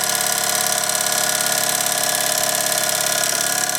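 Mamod Minor 2 model steam engine running steadily on a table, a continuous near, even mechanical whirr and rattle with no pauses or voices.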